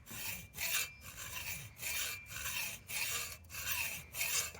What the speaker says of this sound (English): we're going to cut a slot using a hacksaw